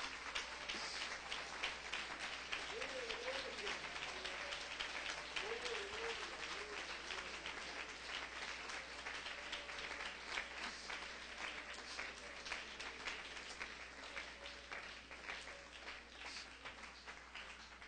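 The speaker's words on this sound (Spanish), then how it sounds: "Aplauda la presencia del Señor" A church congregation applauds during a sermon, steady continuous clapping at a moderate level for the whole stretch, with faint voices calling out underneath.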